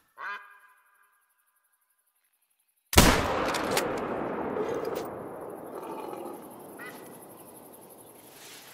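A single sharp, loud rifle gunshot at a lion in theHunter: Call of the Wild, with a long rolling echo fading over several seconds, after a brief faint sound and silence.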